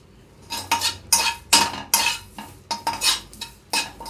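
Curry leaves fry on low heat and are stirred in a pan, heard as a rapid run of sharp metallic clinks and scrapes from a spoon against the pan. The clinks are close and loud with a faint sizzle beneath them, and no voice is heard.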